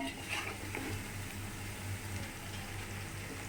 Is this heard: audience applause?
no